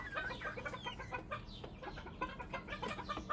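Several egg-laying hens cluck and chatter close by in quick, overlapping bursts, a busy coop murmur with no talking.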